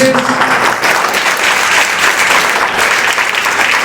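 Steady, dense applause from a crowd at a college anti-addiction camp event, loud and close, clapping continuously without a break.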